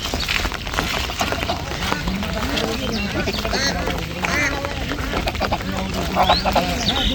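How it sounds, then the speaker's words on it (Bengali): Geese and a duck by a village river on a rainy day, with repeated honking and quacking calls scattered over a steady wash of rain and water, and people talking in the background. "এদিক দিয়ে রাজহাঁসগুলি একটা পাতিয়াশও আছে সাথে"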